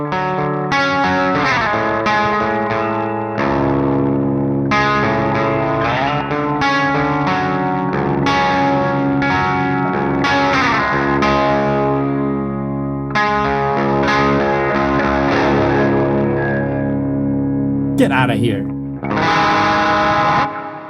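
Electric guitar on the bridge pickup runs through the Neural DSP Gojira X plugin's clean amp, ringing out sustained chords and arpeggiated notes with delay and chorus-like shimmer, loud and continuous, with a brief spoken interjection near the end.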